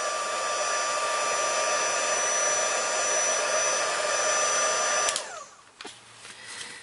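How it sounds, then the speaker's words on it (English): A heat tool melting embossing powder blows with a steady, close, high whirring hum for about five seconds, then switches off and winds down. "heat that until it's melted with your heat tool"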